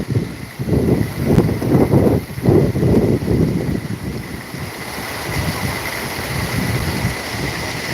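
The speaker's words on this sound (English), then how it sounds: "listen to the current, to the waves" Water current and waves washing against a park shore at Oyster Creek, a steady broad rush with wind buffeting the microphone, choppier at first and then settling into an even wash.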